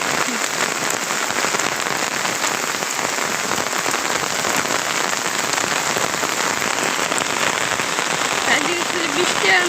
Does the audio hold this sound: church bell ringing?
no